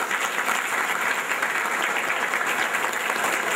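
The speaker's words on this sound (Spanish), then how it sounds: "le damos un aplauso a Mariana esta tarde" Church congregation applauding a woman's birthday during a Catholic Mass, a sustained, even patter of many hands clapping, moderately loud and unbroken throughout.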